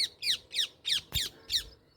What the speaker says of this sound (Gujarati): પોપટ છે